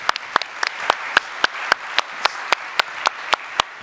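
Conference audience applause with sharp individual claps standing out at a brisk, steady rhythm, filling the room at moderate volume with no voices over it.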